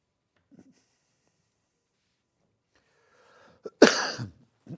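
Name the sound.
cough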